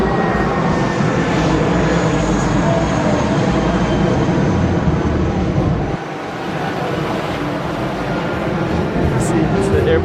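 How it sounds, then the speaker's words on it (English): Steady loud roar of an airplane passing overhead near the airport on Ko Samui, Thailand, a continuous broadband rumble that dips briefly midway and carries on, with no voices over it. "See, it's the airplane right there."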